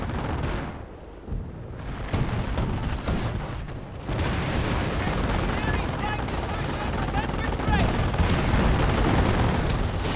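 Bursts of machine gun fire and grenade blasts in a World War-style strategy video game, dense and continuous, with layered rattling volleys and occasional thumps throughout.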